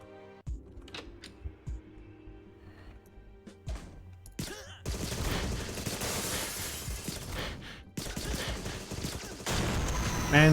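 Enemy gunfire in the Agent 64 demo: scattered sharp shots give way to dense, sustained bursts of firing with crashing impacts, loud and near, with intermittent shots early on.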